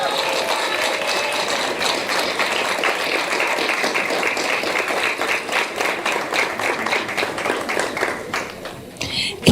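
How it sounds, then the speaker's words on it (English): An audience at a law faculty awards ceremony claps for a Dean's List award recipient, giving a sustained, even burst of applause that carries on for several seconds before easing slightly at the end. "Keep the applause going, ladies and gentlemen."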